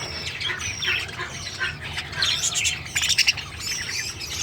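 A pet parrot and other birds squawk and chirp in a lively, overlapping chorus, with bursts of sharp calls and a few louder squawks near the end, close by with no talk.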